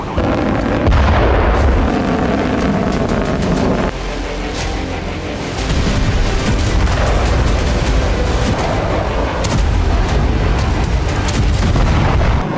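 A US Bolt 1B hypersonic missile test launch, heard as a loud, sustained roaring rumble with crackling bursts that dips briefly and then surges again, dense and continuous throughout.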